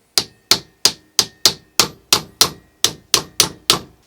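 A hammer taps a punch to drift out a recessed sight on a Taurus PT111 G2 9mm pistol, twelve sharp metallic strikes at a steady rhythm, loud and close with no talk.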